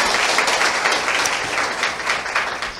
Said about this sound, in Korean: 우리 그분들 위해서 박수 한번 부탁드리겠습니다